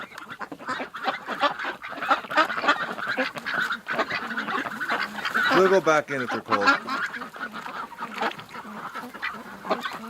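Domestic ducks and geese honk and quack repeatedly outside a barn on a still winter day, a busy overlapping chorus with someone talking over it.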